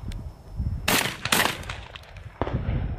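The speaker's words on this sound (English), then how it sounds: "So I'm gonna shoot a couple more and you can just watch the recoil again." Two loud, close shotgun blasts in quick succession from a Beretta A300 Ultima semi-automatic firing heavy handicap shells at an outdoor range, followed by a third shot about a second later.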